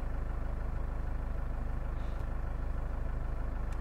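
A stock 4BT diesel paired with an Allison 6-speed transmission and Duramax converter runs steadily, a constant low rumbling drone with even pulsing and no pauses.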